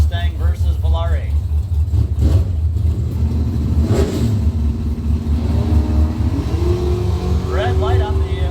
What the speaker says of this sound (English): Greg Rose and Jim Stoll, our next pair. Mustang versus Volare.